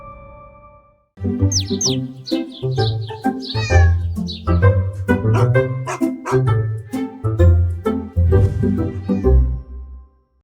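A domestic cat meows repeatedly up close, a run of loud, varied cries at uneven intervals over about ten seconds.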